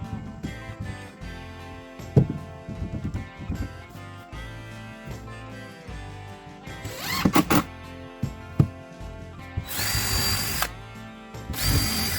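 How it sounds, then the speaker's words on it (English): Power drill boring pilot holes for 1 1/4 inch deck screws in wood for an Adirondack chair, with whirring bursts, a few sharp clunks and a louder, harsher run near the end, heard alone. "assembled the two pieces together using 4 1 1/4 inch deck screws, pre-drilling all of my holes for good measure."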